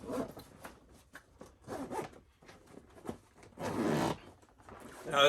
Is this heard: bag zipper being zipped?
yes